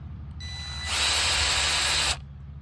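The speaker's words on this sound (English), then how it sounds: "So if you see me using the drill," A power drill bores into hardwood railroad ties for fencing staples, starting with a short lower whine, then rising into a loud, steady high-pitched grinding whir for over a second before stopping abruptly.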